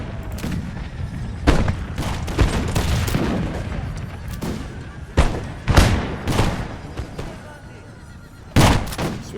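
Musket volleys crack and boom across a video game battlefield in the First Anglo-Afghan War, with irregular loud bursts of massed gunfire over a rumbling background of more distant shots and battle noise.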